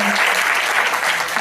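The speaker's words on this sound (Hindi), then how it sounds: "जोरदार तालियां एक बार।" Dense, loud audience applause fills a brief burst at a motivational business talk, steady clapping with no pause.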